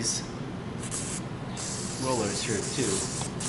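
Aerosol lubricant sprayed onto garage door rollers in a few close hissing bursts, the last one longer, with someone speaking over part of it.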